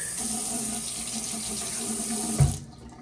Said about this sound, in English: Water pressure's good.